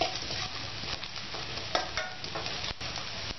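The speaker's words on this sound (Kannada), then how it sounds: "ಇವಾಗ ಇದು ಲವಂಗ ಮತ್ತೆ ಪೆಪ್ಪರ್ ಹಾಕೊಳ್ಳೋಣ. ಅದನ್ನು ಸ್ವಲ್ಪ ರೋಸ್ಟ್ ಮಾಡ್ಕೊಳ್ಳೋಣ." Cloves and pepper roast with softened onions in a pan, giving a continuous close sizzle with light scraping from stirring and an occasional soft clink.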